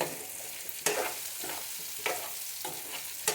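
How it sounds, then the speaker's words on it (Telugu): Pumpkin pieces frying in a pan, a steady close sizzle broken by a few sharp scrapes and stirs of a spoon at irregular intervals, with no voices. "మనం ఇట్లా స్పూన్తో అంటే కొద్దిగా మెత్తగా కావాలి, అంతదాకా వీటిని వేయించాలి"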